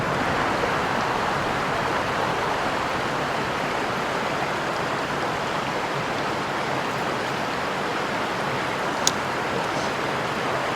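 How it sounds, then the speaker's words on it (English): Low creek on a very cold winter morning, water rushing steadily in a dense, even hiss that stays constant and nearby throughout, with no talking. "So the creek is low this morning."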